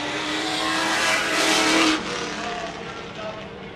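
Race cars roar past on the Seven Rivers Racing track, their engines swelling loud and close near the middle before fading into a steady drone as the pack moves on.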